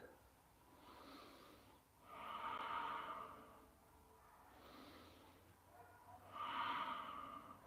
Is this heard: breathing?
yes